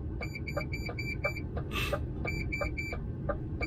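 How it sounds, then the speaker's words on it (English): A truck's parking sensor buzzer beeps in quick repeated pulses as it detects a curb, pausing briefly then resuming, over a low engine rumble. "Sorry for the buzzer, it's just picking up the curb"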